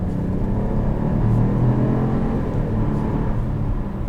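A 2020 Buick Encore GX Preferred driving in two-wheel drive mode, a steady low engine and road rumble from inside the cabin that swells slightly, with no voices.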